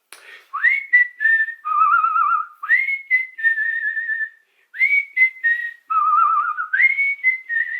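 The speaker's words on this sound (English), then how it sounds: "I'm going to whistle us out today" A person whistles a clear, melodic tune alone, in phrases of sliding and held notes separated by short pauses.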